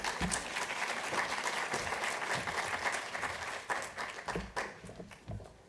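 An audience applauds steadily to welcome Dr. Kate Thompson as she comes up to speak at an event on opioids and older adults, the clapping dense and sustained before thinning out near the end.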